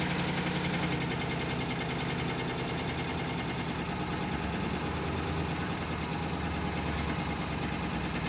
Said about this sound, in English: Oh, I'll start the first time anyway.